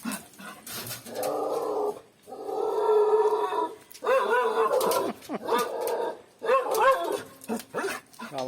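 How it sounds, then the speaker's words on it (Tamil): A dog barks repeatedly outdoors in a garden, with drawn-out, loud, close barks and yowls in several bursts separated by short pauses. "நீ பைரவ் இந்த பக்கம் வந்தால் இவன் சவுண்டு விடுறதும்"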